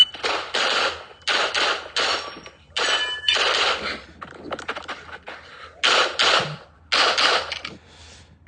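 Pistol shots fired in bursts during a competition shooting stage, sharp loud reports in quick pairs and groups separated by short pauses, close and with no voice over them.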